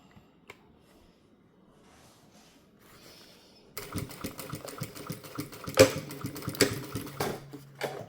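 A sewing machine stitches a zipper pouch along a seam gauge on the needle plate, starting about 3.8 s in with a loud, fast, steady mechanical run after a quiet lead-in with faint handling noise.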